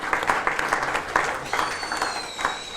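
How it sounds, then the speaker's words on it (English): An audience at an evening citizenship ceremony claps steadily for nearly three seconds, a dense patter of many hands in a hall that stays even without building or fading. "Give her a round of applause."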